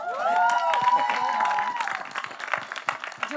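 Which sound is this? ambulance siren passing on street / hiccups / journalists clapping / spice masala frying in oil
journalists clapping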